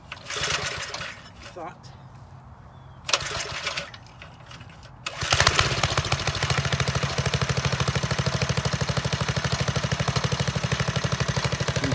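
After some talk, a motorized sugar cane press starts up and runs with a steady, rapid mechanical chatter and hum that stays loud and constant.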